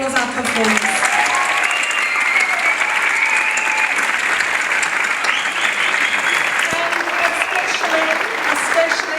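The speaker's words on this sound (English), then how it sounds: "I think a big round of applause for all of our performers." Concert audience giving a loud, sustained round of applause for the performers, a dense continuous wash of clapping that fills the room throughout.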